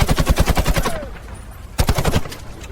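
German paratrooper rifle, the Fallschirmjäger weapon, firing rapid automatic bursts: a fast, evenly spaced string of loud close shots, a short gap, then another burst.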